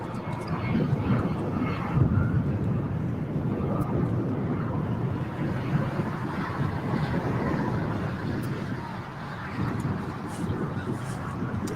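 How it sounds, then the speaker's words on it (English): A China Southern Cargo Boeing 777 heavy departs from the south side of LAX, its jet roar a broad, sustained rumble from a distance with wind buffeting the microphone and occasional voices over it. "we are going to get a heavy here as a departure on the south side. China Southern Cargo 777 lit up on flight radar"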